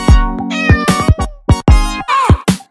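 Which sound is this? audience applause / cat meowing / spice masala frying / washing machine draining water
cat meowing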